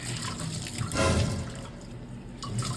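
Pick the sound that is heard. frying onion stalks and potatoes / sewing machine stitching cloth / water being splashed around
water being splashed around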